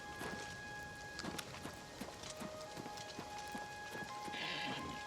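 Horse hooves clip-clop steadily through falling rain in Oblivion Remastered, a faint, even gait under a constant patter of raindrops.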